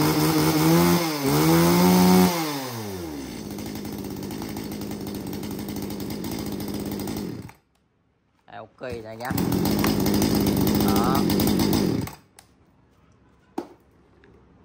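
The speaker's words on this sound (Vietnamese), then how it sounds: "Một con máy cưa xích G7 nha anh em nha." A G7 chainsaw engine, a used Japanese saw, runs loud and close, revving up and down, then idling steadily before cutting out. It restarts with a sputter, roars again for a few seconds, then stops, with a brief spoken word near the restart.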